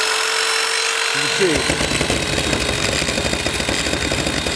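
A power brush sander starts up and runs with heavy rattling vibration, a loud, rough, buzzing motor close by, while a person talks over it.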